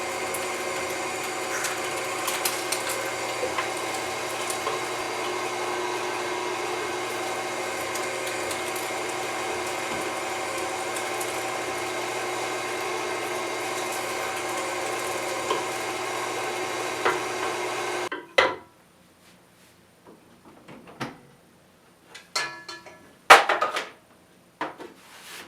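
A meat grinder coarse-grinding strips of round steak, a steady mechanical motor hum for about eighteen seconds, then it shuts off, leaving quiet handling clatter and small knocks.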